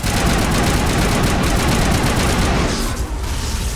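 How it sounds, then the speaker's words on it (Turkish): Sustained automatic weapon fire in the video game Mass Effect, a loud, dense burst of rapid shots lasting about three seconds before tapering off. "Zibilyon mermi boşalttım."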